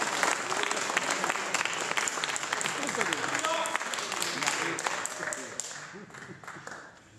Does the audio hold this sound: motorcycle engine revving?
no